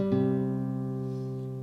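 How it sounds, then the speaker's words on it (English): Two guitar strings, the third and fifth, plucked and left to ring in a single close, clean attack that slowly decays alone. "after you pluck the 3rd string, you want to pluck the 5th string."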